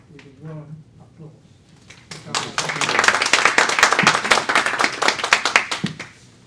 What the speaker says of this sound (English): we should welcome Mr. Ogata with a warm applause